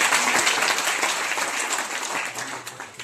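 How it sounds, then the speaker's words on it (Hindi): Loud, dense audience applause at a talk on supporting cancer patients' morale, steady for about three seconds and easing slightly toward the end, with no voices over it. "एक बार जोरदार तालियां"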